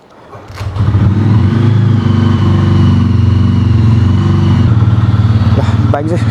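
Motorcycle engine starting up and settling into a loud, steady idling chug close by, with a voice talking over it.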